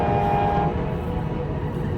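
A train passing through Harpers Ferry near the old armory site, a steady loud rumble with a sustained tonal hum or horn that fades slightly, no voices.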